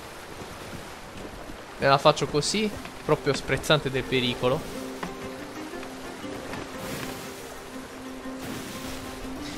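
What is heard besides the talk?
sailing ship moving through waves, from video game Sea of Thieves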